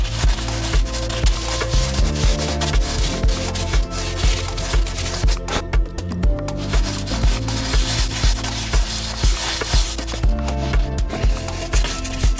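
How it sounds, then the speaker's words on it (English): Dried bedding compound being sanded on a boat during a restoration, heard as a loud, close, continuous scraping and rubbing with repeated back-and-forth strokes over a motor-like drone. "So let's get this nicely sanded down and see how it looks and go from there."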